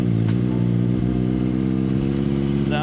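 A Kawasaki ZX4RR motorcycle with only 500 miles, troubled by starting problems and warning lights, runs with a steady mid-pitched engine hum throughout, close and loud, with a brief higher chirp near the end.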